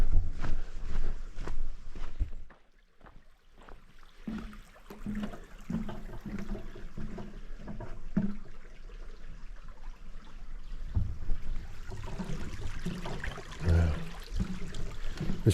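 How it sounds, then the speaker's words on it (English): A creek in the Avenue of the Giants redwoods of Humboldt County, California, flowing toward the South Fork of the Eel, with a steady wash of running water, a brief quieter stretch, and footsteps moving along nearby. "This creek goes out to South Fork of the Eel."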